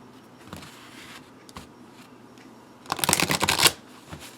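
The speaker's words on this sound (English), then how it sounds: "I generally overhand shuffle these because they're large" A large oracle card deck being shuffled by hand, with a few soft isolated card slaps followed by a short, louder burst of riffling card noise up close.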